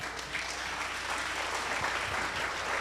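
Sustained applause from a church conference congregation, dense and steady throughout, clapping for the Lord during a testimony session.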